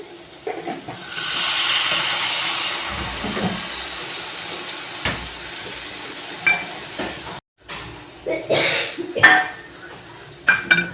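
Thinned yogurt mixed with water goes into a hot pan over a low gas flame while cooking paneer curry, giving a steady soft sizzle and hiss, followed by stirring and the clatter of utensils against the pan.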